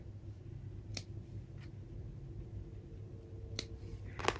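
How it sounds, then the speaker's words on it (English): Scissors snip crochet thread close to a knot, a few sharp, brief clicks spaced unevenly over a quiet room background. "I just cut it as low as I can without cutting the knot."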